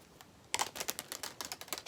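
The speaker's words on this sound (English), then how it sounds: "I'm doing quite a bit of shuffling here for you" Tarot cards are shuffled close by in a quick run of dry riffling snaps and flutters that start abruptly after a brief quiet moment and continue in rapid bursts.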